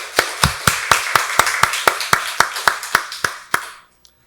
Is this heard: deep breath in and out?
no